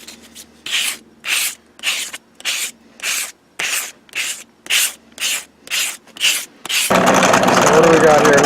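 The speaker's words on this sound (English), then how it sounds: "If you're careful, you can sand a lot of that out" A persimmon golf club head is sanded by hand in about eleven even back-and-forth strokes, each a close scratchy rasp with short gaps, then a continuous louder grinding rub runs to the end.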